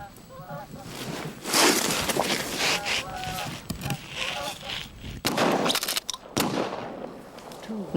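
Gunshots ring out during a goose hunt in Labrador, with a few sharp reports standing out among scattered goose honks and rustling outdoor noise.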